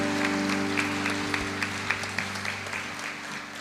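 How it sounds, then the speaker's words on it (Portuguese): A church congregation applauding, a steady patter of many hands clapping with a few sharper individual claps, over a sustained organ or keyboard chord humming beneath. "vamos aplaudir ao nosso Rei Jesus"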